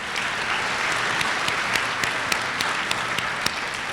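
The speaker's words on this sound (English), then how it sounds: "Would you give them a round of applause?" All-school assembly at Shipley applauds students, alums and faculty, a steady wash of many hands clapping in a large room, with a few distinct louder claps standing out from the even roar.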